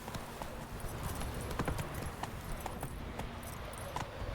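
Hoofbeats of Roach, the horse in a video game, galloping steadily in a quick clip-clop rhythm, fairly close and moderately loud, with no talking over them.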